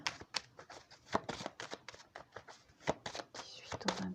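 Tarot cards being drawn and handled for a Virgo reading give a run of quick, close paper flicks and soft slaps in an irregular rhythm, each snap brief and crisp against a quiet room.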